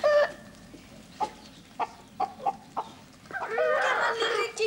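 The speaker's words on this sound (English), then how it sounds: "Come on, little chickens." Chickens clucking in a farmyard, a series of short, fairly close clucks spaced out over a few seconds, then a denser burst of squawking, agitated calls at the end.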